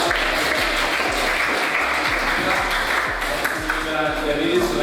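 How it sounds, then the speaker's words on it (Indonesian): A class of students applauding in a school lesson, a continuous dense clatter of clapping at steady loudness, with low rhythmic thumps underneath and some voices blended in. "Beri tepuk tangan buat."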